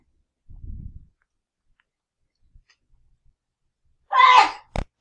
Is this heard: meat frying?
no